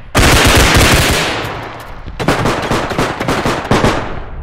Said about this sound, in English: That gun is obnoxiously loud.